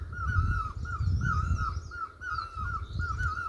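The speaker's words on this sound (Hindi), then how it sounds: "और जो कोयल की आवाज़ आ रही है वो इस वाले पेड़ से आ रही है।" An Asian koel calls from a tree in hill country at dusk, repeating a rising two-note call in a steady rhythm over a low rumble of background noise, with other birds faintly around.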